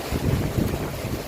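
Strong wind gusting in a steady low roar during heavy rain outdoors, loud and close with buffeting rumble across the mic, no voices.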